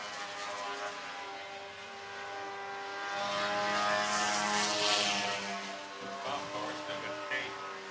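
A race car engine held near redline at a motorsports park in Meridian, Mississippi, a steady high buzzing drone that swells louder midway and stays sustained, heard from a distance with a broad roar of track noise.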